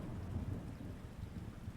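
Heavy storm rain pours steadily while low thunder rumbles continuously underneath, a dense, unbroken roar with no voices.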